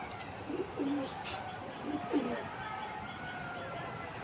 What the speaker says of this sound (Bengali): এটা হলো নর পায়রা